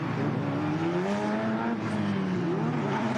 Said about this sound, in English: There's that beautiful C8 Corvette pace car.